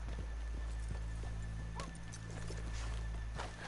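Steady clip-clop of horse hooves on hard ground in Red Dead Redemption with a brief whinny, set against a low rumbling background.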